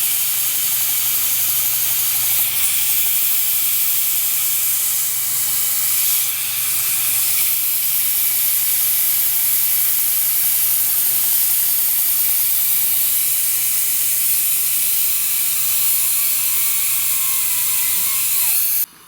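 A model vertical steam engine hisses loudly and continuously as steam escapes, with a faint mechanical ratcheting clatter underneath and no talk.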